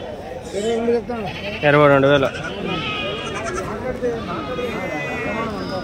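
Goats bleat at a busy weekly goat and sheep market in Kadiri, with several nearby wavering cries, one loud prolonged bleat in the middle, under steady talk and crowd murmur.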